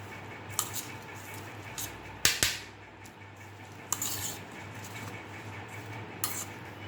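A spoon clinks and scrapes in a bowl while Manchurian batter is mixed, giving a few sharp metallic taps and softer stirring sounds spread over several seconds at moderate volume.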